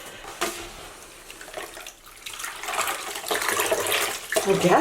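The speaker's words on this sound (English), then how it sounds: "I'm going to keep washing this until the water runs clear." Water from a tap pours over sprinkle-dyed yarn being rinsed, a rushing, splashing flow that swells louder toward the end, with no voices.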